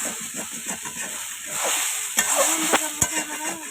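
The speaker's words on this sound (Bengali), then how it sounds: "ভেজে ভেজে রান্না করব।" Stick noodles fry in a pan with a steady, soft sizzle. Faint stirring scrapes and light clicks sound through it.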